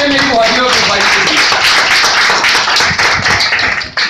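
An audience claps at a celebration event, a dense, steady burst of applause that lasts about four seconds and tapers off slightly toward the end, with voices faint underneath.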